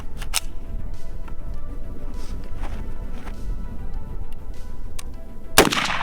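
Rifle shots from a 5.56 and a 7.62 fired at a water bottle outdoors: a few sharp, loud cracks spaced apart, with the last blast the strongest, over a quiet background.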